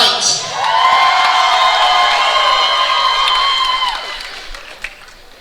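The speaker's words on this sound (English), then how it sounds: "A round of applause, ladies and gentlemen." Crowd at an Elevate FC MMA event applauding and cheering after a fight, a steady sustained roar of clapping and shouts that swells briefly and fades over several seconds.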